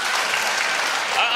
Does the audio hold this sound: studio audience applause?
yes